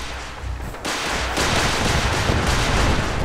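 Heavy, continuous gunfire from defensive turrets and guns during a castle battle in Fallout 4, loud and dense, swelling into a sustained barrage without pause.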